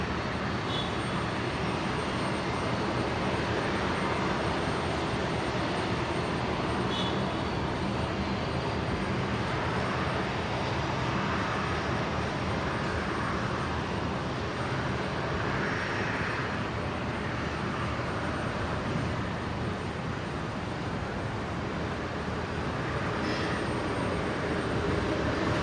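Jetstar airliner on the runway at Brisbane airport, a loud, steady broadband engine roar that holds without pause, with no voices over it.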